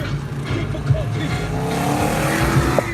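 Car driving through traffic, a continuous engine and road rumble from inside the vehicle with a few brief bumps, with some speech mixed in over it.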